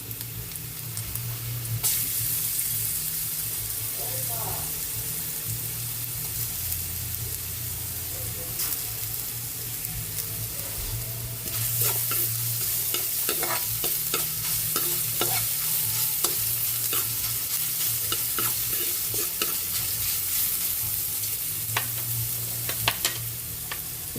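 Chopped garlic sizzles steadily in a hot pan of oil, a continuous loud crackling hiss broken by scrapes and clatter as it is stirred, with no voices.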